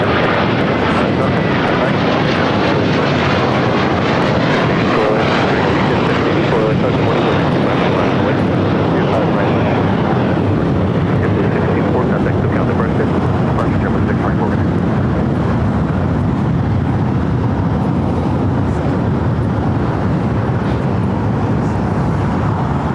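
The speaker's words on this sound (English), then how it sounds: "That was JetBlue Airways Flight 624 heading to JFK in an A321" JetBlue Airways Airbus A321 taking off at LAX, a loud sustained jet engine roar that swells and then slowly fades as it climbs away, steady throughout.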